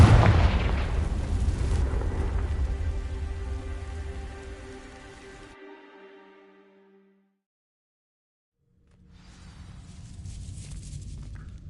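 A Confringo fire spell from Hogwarts Legacy sets dry vines alight with a loud, roaring, crackling burst that fades over several seconds. A pause of near silence follows, then softer crackling returns. No one speaks.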